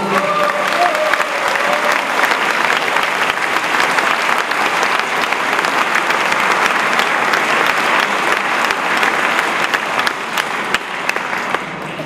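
A large audience at a French political address gives a team long, even applause, a dense wall of clapping that stays loud and steady throughout.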